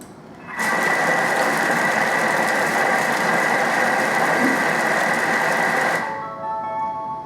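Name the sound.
Thermomix chopping capsicums and tomatoes at speed 4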